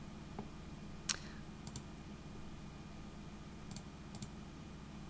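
A computer mouse clicks during Excel work, a few sharp, faint clicks close by at irregular intervals against a steady low hum, with no voices.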